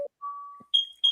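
A smoke or carbon monoxide detector runs its monthly self-test in a home, giving a sequence of loud, clear electronic beeps and tones, some long and some brief, with short silent gaps between them.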